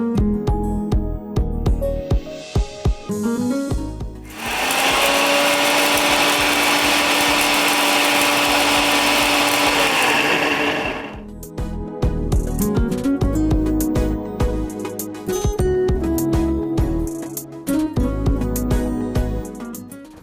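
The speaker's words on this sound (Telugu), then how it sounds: "ఇదిగో అనుష ఇలా మిక్సీ పట్టుకోవాలి" A kitchen mixer grinder whirs as it grinds chillies into powder, with a loud sustained motor roar in the middle of the clip, framed by rattling and clattering of the jar and lid before and after.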